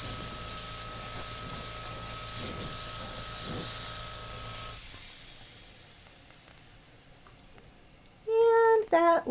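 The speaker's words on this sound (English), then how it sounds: "So what I'm doing is just running the airbrush back and forth evenly." An airbrush sprays acrylic paint in a steady airy hiss for several seconds, then fades out. A few sharp squeaky tones follow near the end.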